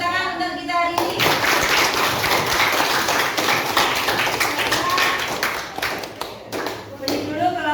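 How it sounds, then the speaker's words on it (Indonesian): A group of teachers and students applauds at the close of a school coaching session, loose irregular clapping in the room for several seconds, with speech briefly at the start and end. "tepuk tangan untuk kita hari ini"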